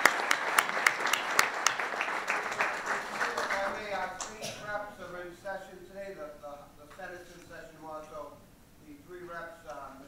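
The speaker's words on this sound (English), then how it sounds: "How about a round of applause?" A round of applause at a chamber of commerce meeting: brisk clapping from a room of attendees for a few seconds, thinning out as a speaker's voice takes over, with talking continuing over the tail.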